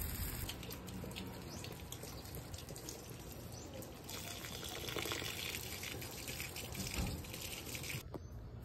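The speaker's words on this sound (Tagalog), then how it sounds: "Iligo sa tubig ating bougainvillea." Water pours steadily over a potted bougainvillea for about eight seconds, a constant close splashing gush that ends with a brief drip near the finish.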